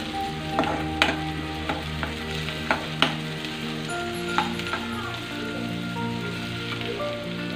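Sliced chillies fry in hot oil in a pan, a constant crackling sizzle broken by scattered sharp pops and light scrapes as they are stirred, close up and without speech.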